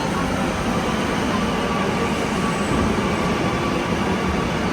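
Metro train pulling into a platform, a loud, steady roar of wheels and motor filling the station and holding constant as it arrives.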